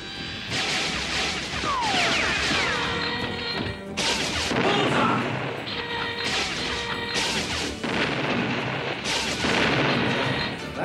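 An iron suit fires at targets during practice, producing loud, repeated crashing gunfire blasts with metallic mechanical clatter in several close bursts and brief pauses between them.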